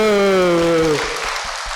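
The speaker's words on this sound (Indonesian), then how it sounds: "Tepuk tangan dulu." A Buddhist dharma talk audience breaks into a short burst of clapping right after a voice, the applause lasting under a second and fading.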